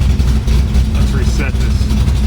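A station wagon with a coolant leak idles with a loud, steady low rumble throughout, and a voice is briefly heard over it.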